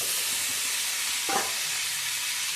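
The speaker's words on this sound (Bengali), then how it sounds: "এই পাস্তাগুলো এর মধ্যে ঢেলে দেবো" Pasta tipped into a hot pan of fried onions and spices, with a steady loud sizzle and hiss throughout and one brief soft tumble of food landing midway.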